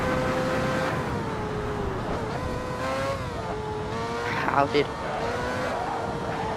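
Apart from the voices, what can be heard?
race car engine and tires at Silverstone in the video game Assetto Corsa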